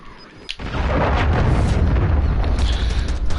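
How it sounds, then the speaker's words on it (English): A cruise missile strikes in Call of Duty MW3, starting with a sharp crack and then a heavy, sustained roaring explosion that fills the rest of the moment. "Hostile cruise missile incoming."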